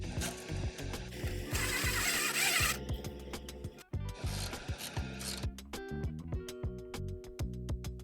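A ratchet drives home the belt tensioner bolt on an 80 Series Land Cruiser, giving rapid repeated clicking strokes close up, with short pauses and rustling between bursts.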